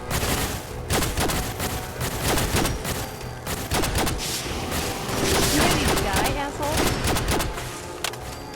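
A laser gun fires in Fallout 4's Nuka World, a dense run of sharp repeated shots and impacts over busy game sound, with a voice talking throughout.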